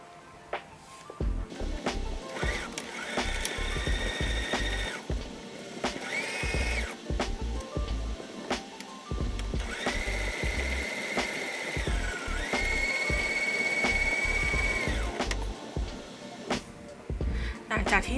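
Sewing machine stitching the hem of a skirt piece for a cat dress: close, rapid mechanical whirring and ticking in bursts with brief pauses, under steady background music and no voices.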